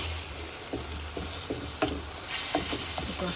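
Baim fish being sautéed in a steel wok over medium heat: a steady sizzle with several sharp spatula scrapes and knocks against the wok, close up, with no talking.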